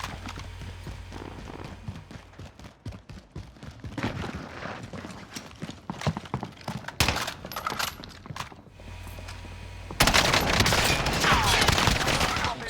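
Enemy gunfire in the video game Call of Duty: Warzone, with two shooters firing dense rapid bursts of shots throughout that grow louder and harsher toward the end.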